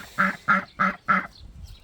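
A mother duck on a small farm quacks four times in a steady, evenly spaced series, loud and close, with no talking.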